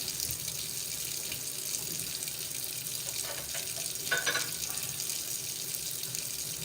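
Kitchen tap running warm water for pizza dough, a steady hissing splash into a sink, moderately close and fairly quiet, with a brief louder spatter midway.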